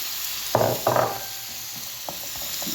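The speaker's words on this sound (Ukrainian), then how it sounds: "часничок сюди на бік сковорідки і викладаю гарбуз, обсмажую гарбуз" Pumpkin pieces and garlic frying in a skillet give a soft, steady sizzle, with two brief louder bursts of crackling early on and a few faint clicks toward the end.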